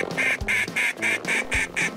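Toy ducks quack in a rapid series of about seven bright, evenly spaced squeaky quacks, close and loud, with no talking over them.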